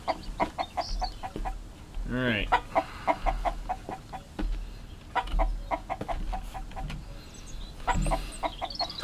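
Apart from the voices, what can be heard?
chickens clucking in the video game Mist Survival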